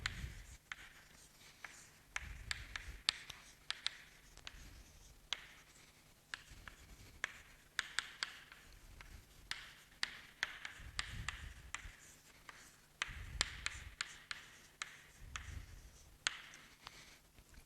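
Marker or chalk writing on a board while noting vectors, with intermittent scratchy strokes and taps in short clusters, faint and close, in a quiet room.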